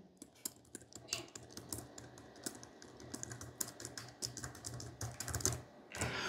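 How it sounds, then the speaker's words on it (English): Clicky keyboard on a 2012 MacBook Pro laptop being typed on, a steady run of close, crisp key clicks in an irregular rhythm with no talking. "Then move to the keyboard itself. It's clicky."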